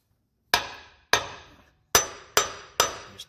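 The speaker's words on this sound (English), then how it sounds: "we're just going to take the hammer since it started on the dowel pin" Hammer taps driving a transfer case onto its dowel pins: five sharp metallic knocks at irregular spacing, each ringing briefly, close and loud against a quiet background.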